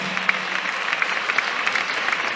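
A church congregation applauds in praise during a worship service, with steady, dense clapping from many hands that fills the room without pause, moderately loud and even.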